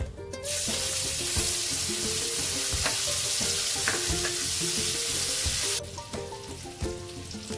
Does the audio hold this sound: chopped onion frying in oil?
yes